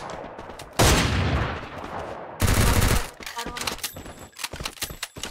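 Counter-Strike gunfire, two loud close bursts of rapid automatic shots followed by scattered fainter distant shots and clicks, with a player talking between them.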